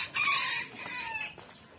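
A native chicken crows and clucks, a short sharp call rising then trailing off, moderately close and alone.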